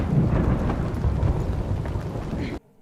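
A thunderstorm in a House of the Dragon episode: a dense, steady rumble of thunder with rain-like hiss, loud throughout and cutting off abruptly near the end.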